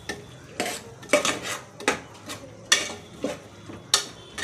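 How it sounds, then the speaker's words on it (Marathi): Pea pulao is stirred and mixed in a pot. A metal spoon strikes and scrapes the pot in a steady rhythm of about seven distinct clanks, close and clear over a faint sizzle. "छान मिक्स करून घ्यायचं"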